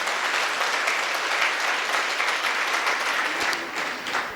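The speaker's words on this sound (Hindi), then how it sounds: "एक बार उन पूरे बच्चों के सम्मान में जोरदार ताली होना चाहिए।" Audience applause for children at a Jain religious ceremony, the Siddhachakra Mahamandal Vidhan in Gairatganj, with dense, steady clapping from a crowd that holds loud and even throughout and eases slightly near the end.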